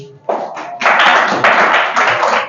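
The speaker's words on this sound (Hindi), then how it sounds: "ताली बजाइए भाई इनके लिए।" Applause from a classroom of students during a Class 6 mensuration maths lesson, a dense burst of many hands clapping that starts abruptly and carries on loudly and steadily for a couple of seconds.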